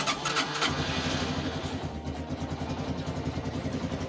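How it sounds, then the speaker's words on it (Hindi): A motorcycle is self-started with the electric starter instead of a kick, the engine cranking and catching, then settling into a loud, steady, chugging idle close by. "सेल्फ से स्टार्ट होती है। अब हमें किक मारने की ज़रूरत नहीं है।"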